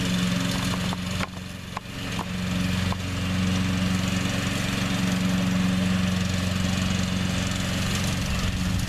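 Brush-clearing mower engine running steadily and loudly throughout, a continuous droning hum with a few brief dips near the start, no talk over it.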